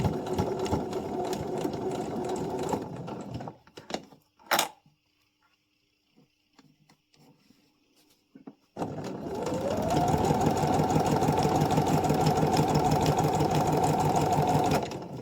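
A sewing machine runs a fast, steady stitching burst on a seam, pauses for a few seconds with faint clicks and fabric handling, then resumes with a second continuous run for the backstitch, close and clear.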